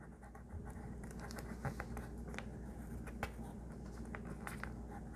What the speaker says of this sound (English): I'm just going to mark very lightly with the pencil